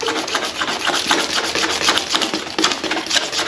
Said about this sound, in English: we don't got to scrape all the paint off this, just where we're going to melt the plastic